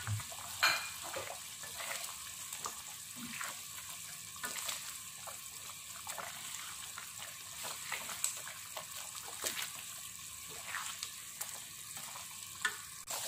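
Egg rendang cooking in coconut oil, stirred now and then: a soft, continuous low sizzle with occasional scraping stir sounds, fairly quiet and close.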